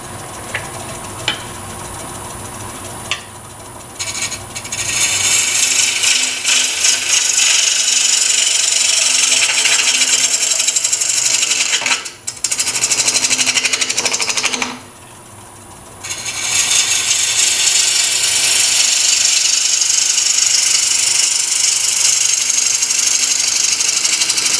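A bowl gouge cuts the outside of a spinning wooden bowl on a lathe, making a loud, rough shearing roar that drops out briefly twice as the tool lifts from the wood, with a faint motor hum underneath.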